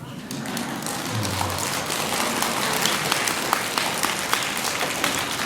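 An audience at a Buddhist dharma talk claps in a steady, dense patter of moderate loudness that holds for several seconds, sounding like a roomful of hands in a hall.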